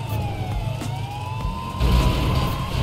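A police car siren in the GTA V video game wails in steady rising and falling tones over low engine rumble, loud and continuous throughout.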